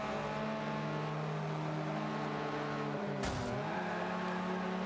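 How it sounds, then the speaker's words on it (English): Subaru race car engine in the Forza Motorsport 5 racing game, a steady high revving drone with layered harmonics and a brief sharp gear-shift dip and rise, loud and continuous with no talk. "we mostly want to hear that beautiful car noise"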